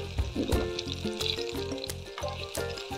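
Eggplant slices fry in oil in a pan, giving a lively, close sizzle with small crackles and a soft musical backing throughout.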